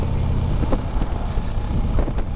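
A Harley-Davidson motorcycle rides through downtown Chelsea, Michigan, its low engine rumble steady and close under heavy wind buffeting on the microphone throughout, with no talking.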